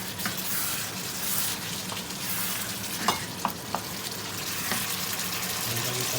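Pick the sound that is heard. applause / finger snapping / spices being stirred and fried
spices being stirred and fried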